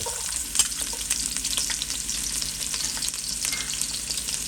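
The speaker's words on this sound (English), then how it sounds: "now the oil hot, I'm going to start off by sauteing some onions" Chopped onion and garlic sizzle steadily in hot oil for a Jamaican brown stew, a close, continuous crackling fry with a few stirring clicks and no talking.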